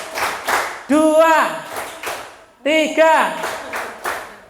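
At a vocational school training showcase in Indonesia, the audience claps in short counted bursts, sharp clusters of claps alternating with a speaker's voice calling out the count.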